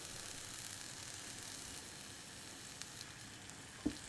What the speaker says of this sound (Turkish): Ve soğanlar yumuşayana kadar soteliyorum.